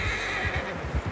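A horse neighs in the video game Red Dead Redemption 2. The whinny is loud and close, lasts about a second, and is mixed with hoof clops.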